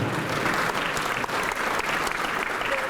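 An audience at a keynote speech at the URA Open Minds Forum claps in a loud, sustained burst of applause that fills the hall evenly from start to finish, with no speech over it.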